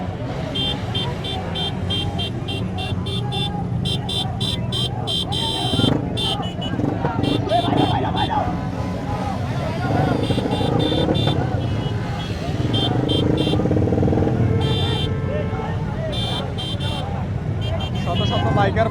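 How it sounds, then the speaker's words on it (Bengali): A huge motorcycle rally of hundreds of bikes sets off from Hotel Nurjahan at Paduar Bazar Bishwa Road, Comilla: a dense, continuous rumble of engines with scattered horn toots, under someone talking loudly throughout. "এই যে আপনারা দেখেন এক বিশাল বাইক র্যালি শুরু হচ্ছে"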